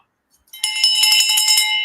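A bell is struck and rings out bright and loud after a moment of silence, its metallic tone sustaining steadily with a shimmering tremolo to the end.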